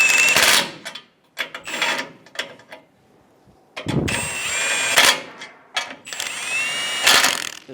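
A power tool snugs the bumper bracket bolts on a 2005-2015 Toyota Tacoma, giving several close, loud whirring and rattling bursts of a few seconds each, separated by short pauses.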